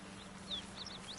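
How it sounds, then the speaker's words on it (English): Chickens in Baldur's Gate 3 give a few faint, short high clucks and chirps over a low steady ambient hum, with no talking. "I'm afraid you'll have to content yourself with vagrant chickens."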